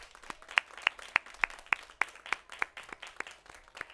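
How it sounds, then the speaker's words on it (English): Sparse, light clapping from a small group at a graduation ceremony, individual claps distinct and fairly quiet, with no voices. "can we have a round of applause for the girls?"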